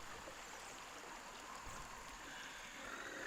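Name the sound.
flowing creek water in the video game Log Away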